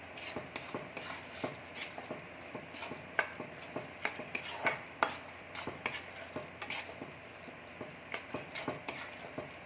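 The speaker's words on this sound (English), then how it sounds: "Give it a nice mix." A spoon stirs capsicum rice in a pan with steady, rhythmic scraping and metallic clinks, close and clear over a faint sizzle, with no voices.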